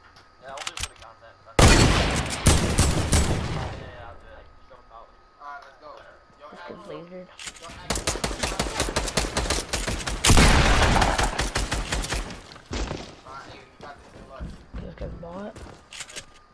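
Gunfire in a video game: rapid bursts of loud, crackling shots in two long volleys with scattered single cracks between, close and harsh, while someone talks and reacts over the firing.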